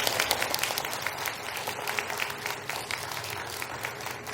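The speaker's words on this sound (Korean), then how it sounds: "황철 회장님께 다시 한번 큰 박수 부탁드리겠습니다" An audience at a policy forum in the National Assembly applauds a presenter, steady dense clapping heard throughout at moderate level with no speech over it.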